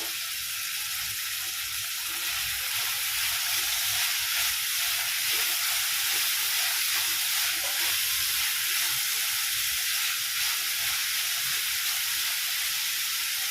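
Carrots and other vegetables fry in a pan over high heat, giving a steady, close, continuous sizzle and hiss that holds at an even level throughout.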